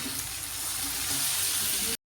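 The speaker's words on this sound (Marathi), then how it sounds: "कोथिंबीर हे सर्व आता परत नरम होईपर्यंत पूर्ण भाजून घेऊया" Onion, chillies, ginger, garlic and coriander fry in oil in a pan for a paneer masala base, giving a steady close sizzle that stops abruptly after about two seconds.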